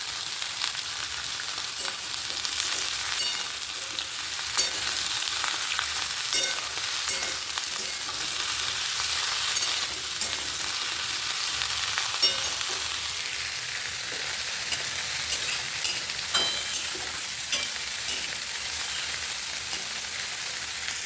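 Spices tempering in hot oil for a vegetarian banana-flower curry hiss and crackle in a steady, dense sizzle that runs unbroken and fairly loud, close by, with no voices.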